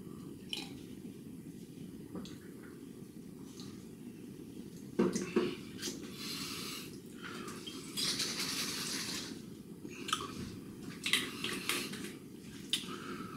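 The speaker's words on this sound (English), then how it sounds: "Nice face wash." Face splashed with water after a shave, heard as quiet wet splashes and squishy rubs with brief dripping, close and soft, with some louder splashes midway.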